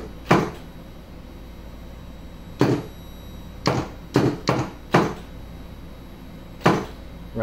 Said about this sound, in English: we're only going to hear the physical solenoids